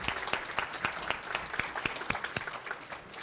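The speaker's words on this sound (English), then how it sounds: "give a round of applause to all of our support that has been in this room with us here" Audience applause at an evening awards program for outstanding women leaders, steady clapping from a room full of people with sharp individual claps standing out, moderately loud throughout.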